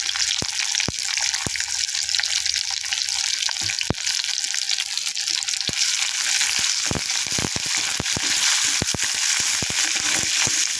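Onions and asafoetida fry in hot oil for a South Indian tempering in a home fasting meal. The sizzle is bright and constant, with sharp crackles and pops scattered through it and no speech.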